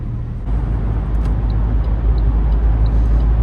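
A car travels along a road near Milan, giving a steady low engine and tyre rumble heard from inside the vehicle, with a few faint clicks and no speech.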